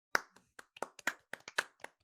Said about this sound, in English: let's applaud Rose for being the only girl on a 9-person cast